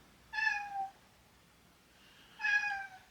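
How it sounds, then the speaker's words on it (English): A house cat meows twice in a kitchen, each call a drawn-out, bending cry roughly two seconds apart with quiet between them, fairly close and clear. "That was my cat having a dramatic moment."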